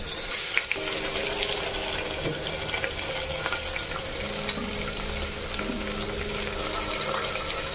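Onions fry in a clay pot (mati handi) for a dhaniya chicken masala, giving a steady, dense sizzle with faint stirring scrapes throughout and no talk.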